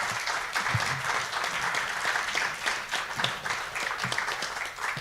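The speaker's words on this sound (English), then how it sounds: "Let's give them a round of applause." An audience at a candidate forum hosted in a church applauds steadily, a dense, sustained wash of clapping from many hands lasting throughout, with no talking over it.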